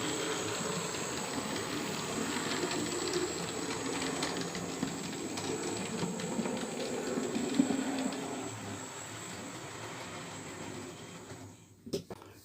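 Hornby M7 model locomotive with its train pulling away on a model railway layout, a continuous whirring motor drone and track rumble that fades near the end, ending with a clack; someone talks faintly at times.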